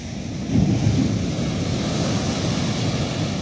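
Surf rolling in at the port of Manzanillo, Colima, with high swell after a rainbow day: a steady broadband wash of breaking waves, swelling briefly near the start and then holding at a constant level, with no voices.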